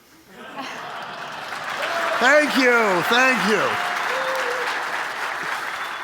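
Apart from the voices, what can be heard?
audience applause at a keynote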